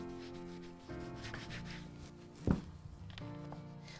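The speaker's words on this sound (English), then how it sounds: "I'm picking up some of the shoe polish and I'm going to rub all over the boot" Shoe polish being rubbed onto a leather boot by hand in the classic polishing method, a soft, steady close-up rubbing and scuffing with one brief louder thump midway, over a low constant background hum.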